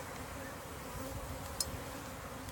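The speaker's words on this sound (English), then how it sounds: "So many bees." A dense, steady drone of many honey bees humming together at a hive during a spring hive split, close by and continuous, with a brief sharp tick partway through.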